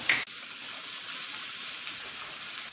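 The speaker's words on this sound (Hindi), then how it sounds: "अब इसे हल्का भून लेंगे। साथ में ये जो लहसुन हमने भुना था ये डाल देंगे।" Steady, loud sizzling of onion and garlic frying in a pan over medium heat, with a brief clatter near the start and no talking.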